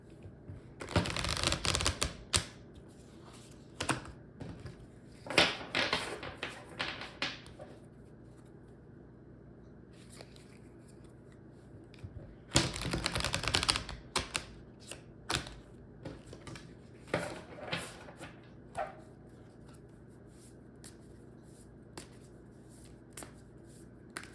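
Tarot card shuffling comes in several bursts of crisp riffling and flapping, each a couple of seconds long, with quieter handling sounds and pauses between them.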